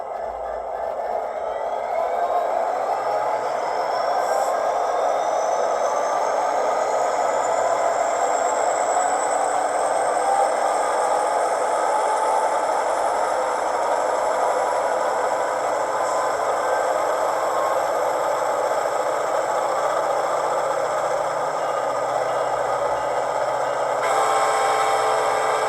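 Steady diesel engine drone with a slowly rising whine from an Atlas HO scale Metrolink MP36 model locomotive, held at high revs for a long stretch, with faint rattling; no talking.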